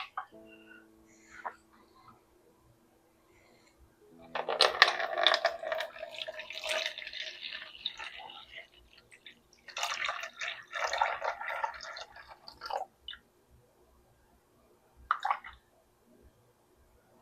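Water is poured into a container for the water phase of a homemade lotion, in two splashing, trickling pours with a short pause between them and a final brief drip, close and moderately loud.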